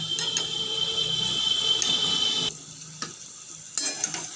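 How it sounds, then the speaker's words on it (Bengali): Fried pumpkin and potato are stirred in a pan with ginger and spices for a vegetarian kumro aloo chakka, a steady close sizzle with spatula scrapes and clicks that briefly quiets midway. "আরও এক দু মিনিট কুমড়ো আলু এবং সমস্ত মশলার সাথে মিশিয়ে নেবো"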